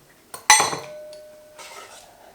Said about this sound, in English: take our egg, crack it in